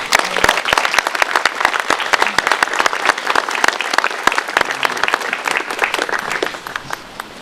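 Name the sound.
audience applause for Mr. Crawford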